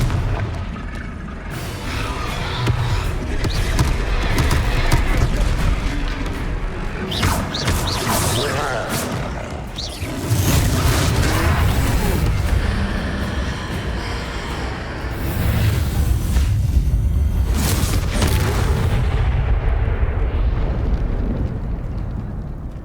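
Confringo blasting spells in the video game Hogwarts Legacy produce loud, continuous rumbling explosions with bursts and crackling debris over a sustained roar, and a character shouts amid the din.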